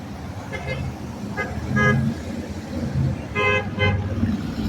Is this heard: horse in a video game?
no